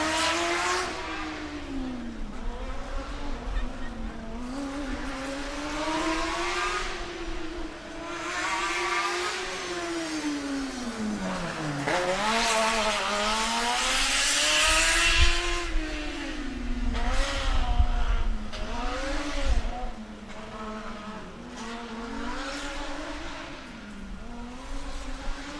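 A combustion race car at Formula Student Germany (FSG) endurance runs its final lap, its engine note rising and falling through revs and gear changes as it passes nearby, loud and continuous with no talk.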